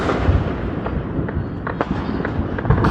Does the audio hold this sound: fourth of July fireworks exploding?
yes